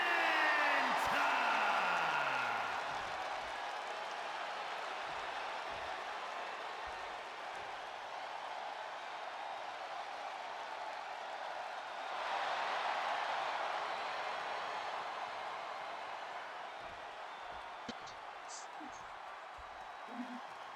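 A virtual arena crowd in the WWE 2K26 video game roars and applauds, loudest in the opening seconds, then settles into a steady wash of crowd noise with a second swell midway, under an announcer's voice.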